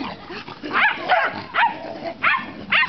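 Puppies, including beagles, playing and giving several short yips and barks in quick bursts, close and fairly loud over scuffling background noise.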